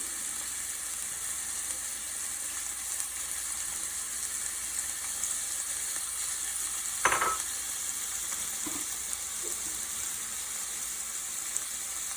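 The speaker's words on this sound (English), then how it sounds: "I want to almost sear them, so a minute or 2 on each side should do it." Shrimp searing in a pan makes a soft, even, continuous sizzle that holds steady throughout, with one brief clatter near the middle and a couple of faint knocks, all without speech.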